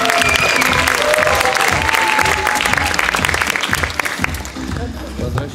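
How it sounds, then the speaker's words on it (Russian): Loud, dense applause from a theater audience at a new clowning festival, sustained clapping that fades slightly toward the end while a voice speaks over it. "ваши аплодисменты"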